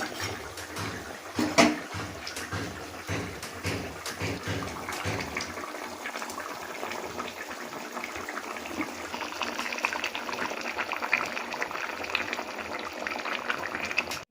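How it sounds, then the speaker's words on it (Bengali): Fish and egg curry broth boils steadily in a pot, a continuous bubbling and gurgling close up with scattered pops and small splashes throughout, no voices. "দেখুন বন্ধুরা, ঝোলটা আমার খুব ভালোভাবে ফুটে গেছে"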